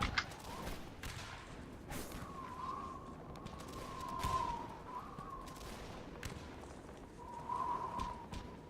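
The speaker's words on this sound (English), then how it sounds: "once again, under very heavy artillery fire" Distant, booming artillery fire during a Civil War battle between Union and Confederate forces in North and South, with repeated low thuds and crackling volleys rolling over steady background noise and faint tonal sirens or whistles.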